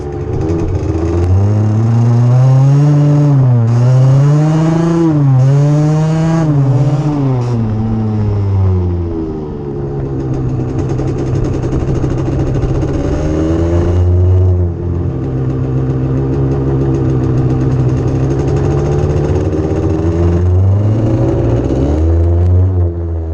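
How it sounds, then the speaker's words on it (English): A 1991 Kawasaki KDX200 two-stroke dirt bike engine warms up, a loud buzzing idle with repeated throttle blips rising and falling, running continuously close by. "just letting the bike warm up right now"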